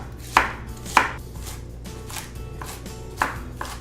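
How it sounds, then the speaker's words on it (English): Knife chopping fennel on a cutting board, three sharp, distinct chops spaced irregularly over a low background hum, close and fairly loud. "I'm going to give this a little bit of a chop."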